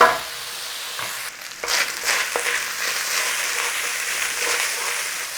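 Pork mince frying with garlic and ginger, a loud, steady sizzle with a sharp burst at the start and a few stirring scrapes partway through.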